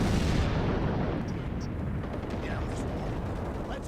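Heavy anti-aircraft guns fire in the Rogue Trooper Redux video game, a dense, loud continuous barrage of booming rumbles with occasional sharper cracks.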